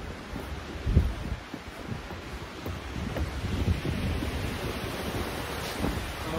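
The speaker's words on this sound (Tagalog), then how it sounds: "Sobrang lakas ng hangin" Strong wind gusts buffet the microphone in Banff, Alberta, a continuous low rushing roar with heavier thumps near the start and swelling toward the end, no voices.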